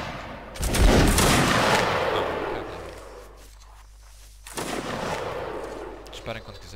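Musket volleys in the Napoleonic battle game Mount & Blade: Napoleonic Wars, two loud crackling bursts of massed gunfire with rolling echoes, separated by a quieter gap, with faint voices.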